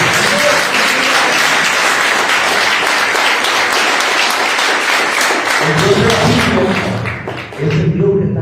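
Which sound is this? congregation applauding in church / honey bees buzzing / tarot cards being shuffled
congregation applauding in church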